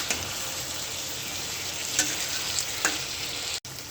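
Prawns and jackfruit sautéing in a wok with oil and chilli, giving a steady close sizzle with a few sharp scrapes and clinks of the spatula, no voices.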